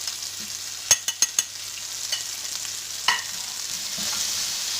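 Spices get stirred into potatoes and eggplant frying in a pan, heard as a quick run of four sharp utensil clacks, then softer scrapes and a later clank over a steady low sizzle.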